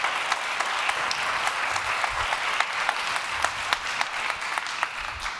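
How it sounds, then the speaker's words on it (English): Audience applause after a keynote talk at an insect day event in Berlin, a steady, moderately loud wash of many clapping hands with a few sharper claps standing out throughout. "It's your applause"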